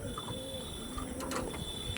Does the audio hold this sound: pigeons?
yes